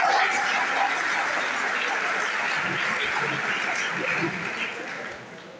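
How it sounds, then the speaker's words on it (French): An audience applauds at a debate hall after a young man's question, heard as a steady wash of clapping for several seconds that slowly fades, with some murmuring voices beneath. "Je ne sais pas comment il faut prendre les applaudissements sur la fin de la question du jeune homme."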